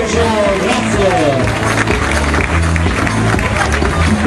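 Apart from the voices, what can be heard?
audience applause at a vintage wedding dress fashion show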